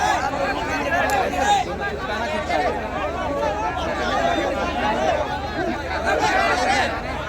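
A large crowd at a political rally chatters and murmurs in a dense, continuous babble, with many overlapping voices near and far but no single clear speaker.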